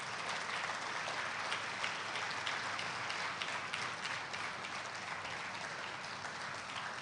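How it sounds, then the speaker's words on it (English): Audience at a scholars program graduation ceremony applauds the graduates, a continuous, even wash of clapping from a large crowd, heard at a moderate distance and sustained for several seconds without talk. "Please join me in congratulating these outstanding graduates with a round of applause for a job"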